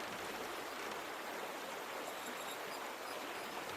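Water pours steadily out of a bucket in a point-and-click adventure game, a continuous even rush of splashing that runs alone for several seconds.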